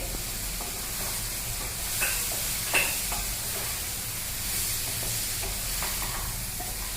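Capsicum, green peas and sliced potato being stirred in a pan for a mixed bhaji, with a steady soft sizzle and a few scraping strokes of the spoon, heard alone with no talk.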